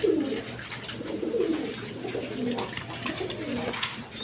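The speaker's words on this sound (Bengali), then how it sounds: "দেখেন এখানে 2 পেয়ার কবুতর আছে।" Rajgolla pigeons coo softly and repeatedly at close range, low rolling calls continuing steadily without talk.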